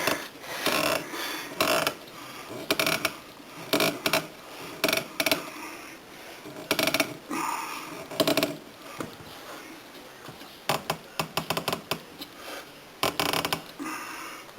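Ratcheting clicks come in short, close bursts as the cable nut of an EZ Cruise cruise control is tightened near a car's throttle body, with pauses between turns.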